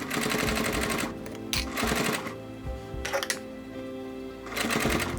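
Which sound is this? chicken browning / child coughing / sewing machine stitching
sewing machine stitching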